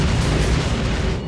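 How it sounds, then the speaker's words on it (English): Rockets explode in the Armored Brigade 2 war game: one loud, rumbling blast that fills the whole short moment. "You guys see that? That's rockets."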